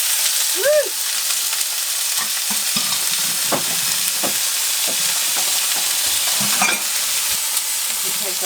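Small pimientos frying in oil in a pan, with scattered crackles and pops and soft stirring scrapes throughout, close and steady, no voices.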